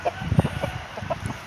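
A chicken clucks in a short string of close, irregular calls, with low murmured sounds in between and a steady hiss in the background.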